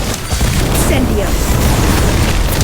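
Incendio fire spell from a Harry Potter video game bursts into a loud, rumbling whoosh that fills the whole moment with a sustained, roaring blast.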